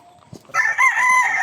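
A rooster crows once, close and loud, a drawn-out cock-a-doodle-doo following a brief soft rustle.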